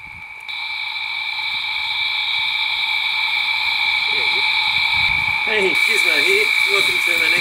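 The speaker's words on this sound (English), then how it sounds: "It's literally just got noisy with the bugs because the sun's just gone down." A dense, steady chorus of insects drones and shrills in the bush as the sun goes down, holding constant throughout, with a voice coming in near the end.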